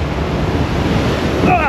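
Water sprays from a ride at Allgäu Skyline Park funfair, a steady, close hissing rush with wind buffeting the microphone throughout.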